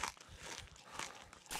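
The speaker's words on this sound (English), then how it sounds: "Cucumbers. It's crunchy water" A crunchy cucumber is eaten in the survival game SCUM, giving a quick run of faint, close, crisp crunching bites and chewing that lasts under two seconds.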